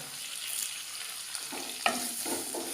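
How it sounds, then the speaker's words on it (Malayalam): Curry leaves sautéing in a pan for a prawn theeyal, a steady frying hiss with soft stirring scrapes and a few louder clinks near the end, close and alone. "ഇത് നന്നായിട്ട് വഴറ്റിയെടുക്കണം"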